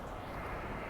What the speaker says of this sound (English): Tacoma Airport watching planes take off.